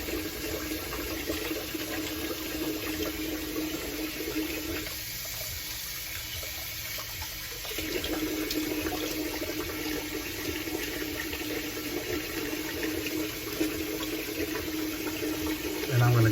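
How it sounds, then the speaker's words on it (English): Hot water runs steadily from a tap into a sink for a straight razor shave, a continuous close hiss and splash that lasts the whole stretch and grows slightly fuller partway through. "I'm going to run some new hot water here."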